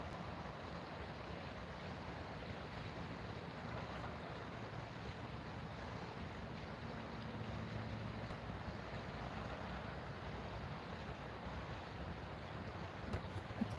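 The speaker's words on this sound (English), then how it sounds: "You guys probably can only hear the" Water heard at night, a steady wash of lapping and surf-like noise with some wind rumble on the microphone, continuous and fairly quiet with nobody talking.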